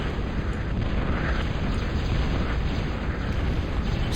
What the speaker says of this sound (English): They're trying to shoot through the mountain.